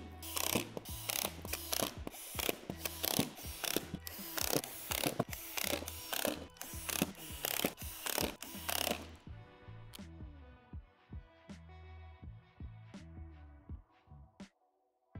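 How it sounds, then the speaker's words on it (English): Ratcheting screwdriver or drill driving screws through the edge divots of plastic floor panels for a Lifetime 8x10 Rough Cut storage shed, a dense run of clicking mechanical bursts, then sparser ticks as the fastening slows. "Secure the floor panels together by screwing through the divots on each edge of the floor panel."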